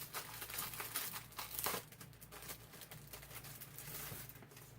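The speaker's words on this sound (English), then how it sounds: "Open up the packaging." Plastic packaging around a set of greeting cards being opened, producing continuous close crinkling and rustling with a few sharper crackles, faint overall and with no talking.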